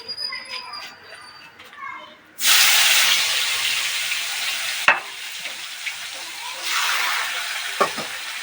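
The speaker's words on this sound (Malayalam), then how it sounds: "കടുക് വറുക്കാം." Mustard seeds hit hot oil in a clay pot on a home stove with a sudden loud hiss, then a steady sizzle with a few sharp pops, quieter kitchen sounds beforehand.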